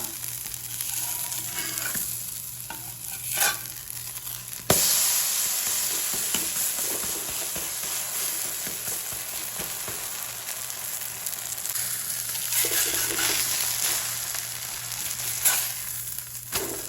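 Uthappam batter frying on a hot pan, a steady bright sizzle with occasional scrapes and a sharp clatter partway through as it is turned, no talking.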